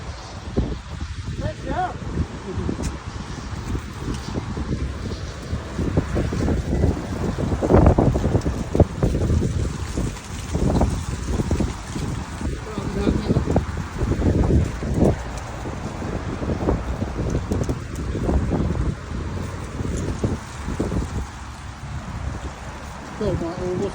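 Strong outdoor wind buffets the microphone in steady loud gusts for the whole stretch, with rustling and occasional voices talking underneath.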